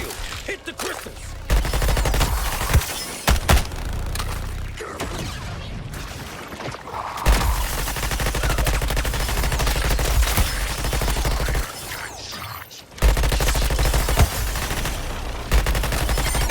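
Rapid automatic gunfire in the video game Suicide Squad: Kill the Justice League, shooting at crystals, loud sustained bursts broken by short pauses and heavy impact crashes.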